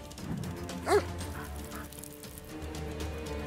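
A dog in the South Park: The Fractured But Whole video game gives a short, sharp whimpering yelp after being hit during combat, heard once over low game background noise.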